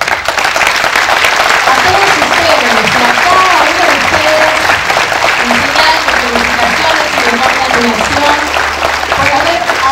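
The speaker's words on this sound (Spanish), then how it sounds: "queremos brindarles este afectuoso aplauso" Warm, sustained applause from a gathered crowd honouring newly registered professionals at a formal swearing-in ceremony in Lima, loud and dense throughout, with a faint voice murmuring underneath.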